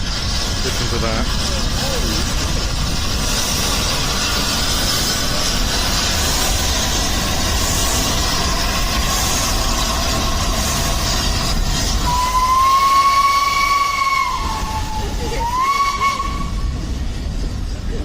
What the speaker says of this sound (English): Probably the most famous train in the world.